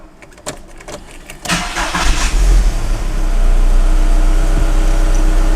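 A VW Bora with a 1.6L engine cranks briefly after a timing belt swap, then catches and settles into a loud, steady idle close by.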